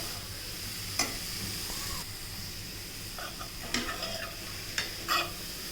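Grated carrots sauté in a pan for carrot halwa, a steady sizzle running throughout with a few scraping stirs and light clinks of a spoon against the pan, close and alone.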